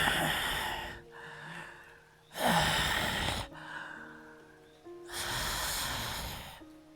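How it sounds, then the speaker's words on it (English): Heavy, raspy breathing from a scary story plays as three long ragged exhalations, loud and close, separated by quieter breathy inhalations. "The breathing was getting worse and worse."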